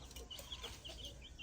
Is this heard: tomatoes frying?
no